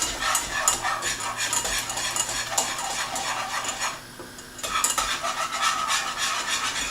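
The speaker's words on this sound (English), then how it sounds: "I'm going to keep stirring, and that should thicken right" A spoon stirs an egg mixture around a hot metal pan, steady scraping and clinking under a faint sizzle, continuous with a short lull midway.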